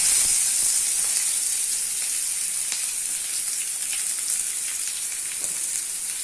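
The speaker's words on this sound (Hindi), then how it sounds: "अभी हम लोग इसमें प्याज डाल देते हैं।" Chopped onions hitting hot oil with whole spices in a pan over a medium flame, producing a loud, steady, close sizzle and hiss that carries on unbroken, with no talking.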